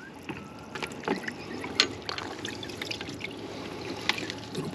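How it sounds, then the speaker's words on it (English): Bubbling and trickling water from an aerator running in a bucket of salt water holding live prawns, a soft continuous burble with scattered splashy pops, close by. "I've just got them in a bucket with some salt water and an aerator running."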